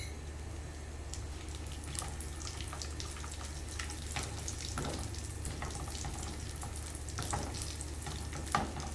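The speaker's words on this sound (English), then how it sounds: "roast until the raisins are golden brown" Raisins roasting in a pan for sheer khurma, giving a steady low sizzle with scattered soft crackles and occasional stirring scrapes, no voices.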